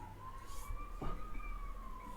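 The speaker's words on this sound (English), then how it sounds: "Police or ambulance in the background here all the time." A distant police or ambulance siren in Hungary drifts faintly in the background, a steady wavering tone slowly rising and falling, with a brief muffled knock partway through.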